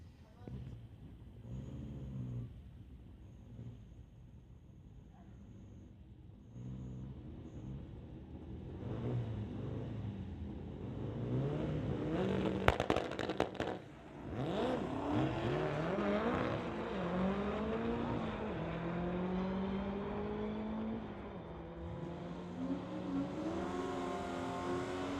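At a street-legal drag race, a 1956 Volkswagen Beetle launches against a 2008 Camaro ZL1, engines rumbling and then roaring up through the gears in a long sustained run, with a loud revving swell midway.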